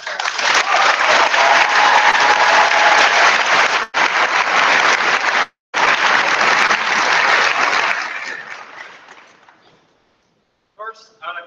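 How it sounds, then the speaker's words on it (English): High school graduation audience applauding a student, a loud, dense roar of clapping for about eight seconds with two brief dropouts, then fading out to silence before a voice begins. "I would just like to stop and give Will a round of applause."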